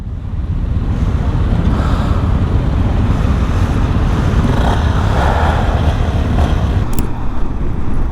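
A big group of Honda Grom motorcycles on a ride-out produces a loud steady engine drone, heavy in the low end with wind rumble, constant and close throughout, with no talking.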